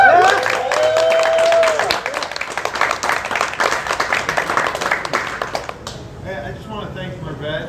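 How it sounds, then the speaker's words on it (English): Applause for a congressional candidate at a coffee talk in a bakery cafe, steady crowd clapping with some cheering and speech-like voices at the start, thinning out as a voice begins talking in the last seconds. "I want you to give a big, big round of applause to our next Congressman"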